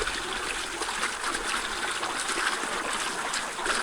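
Cold water running from a pipe at an outdoor hand-washing spot during the monsoon season, a steady close gushing and splashing flow with no pause.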